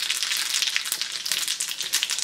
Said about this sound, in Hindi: तेल हो चुका है गरम, अब आप इसमें जो है ज़ीरा डालेंगे